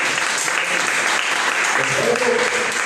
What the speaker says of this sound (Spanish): En un aplauso a Cristo.